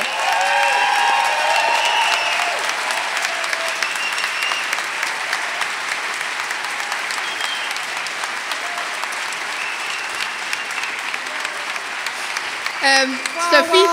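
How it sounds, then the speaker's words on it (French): Audience at the opening gala of a film festival applauds in a long, loud, sustained ovation, with voices and cheers mixed in and a speaker's voice coming through near the end. "je vous prie de réserver un tonnerre d'applaudissements pour la réalisatrice et co-scénariste de Berger, Sophie de Raspe."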